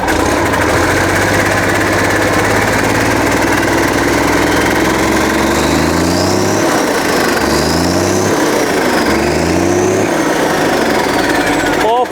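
A Hino S700 truck's E13C 400-horsepower diesel engine rumbles loudly up close, idling and then revving repeatedly in rising and falling surges, with someone talking over it.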